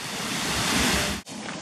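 Small stream of geyser water in Rotorua, New Zealand, beginning to flow, heard as a steady broadband rushing and gushing wash close by, with a brief dip near the end.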